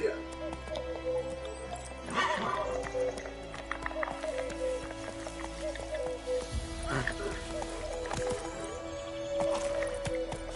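Roach, the horse in The Witcher 3 video game, galloping with rhythmic hoof clip-clops under music and ambient game sound, with a voice speaking at times.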